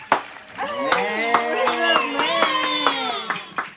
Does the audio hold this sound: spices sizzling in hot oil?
no